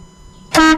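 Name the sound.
air horn installed on Mobilvetta motorhome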